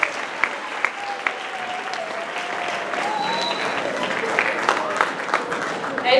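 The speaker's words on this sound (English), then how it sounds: "can y'all stand up and give Mr. Kemokai a round of applause" Applause from a school assembly audience, scattered claps first and then a sustained, dense round of clapping that grows fuller, with some crowd murmur and voices underneath.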